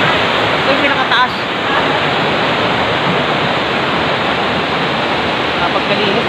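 A mountain stream rushes loudly and steadily nearby, a dense, unbroken roar of flowing water that fills the whole scene without any pause.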